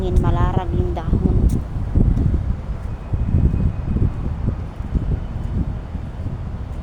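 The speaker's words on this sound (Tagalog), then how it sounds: "ang lakas talaga ng hangin" Strong wind on a rooftop roars in steady, loud gusts, with a voice speaking briefly at the start.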